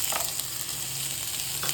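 Beans and fresh peas sautéing in a hot pan for rava vegetable idli, a steady close sizzle and crackle with faint stirring scrapes and no talking.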